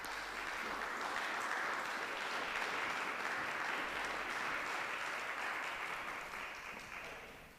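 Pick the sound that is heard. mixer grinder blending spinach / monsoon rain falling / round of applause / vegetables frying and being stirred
round of applause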